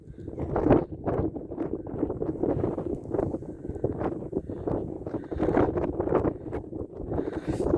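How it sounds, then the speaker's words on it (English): Gusty wind buffets the microphone with continuous low rumbling thumps and bursts, loud and close throughout. "Too windy to keep the phone still."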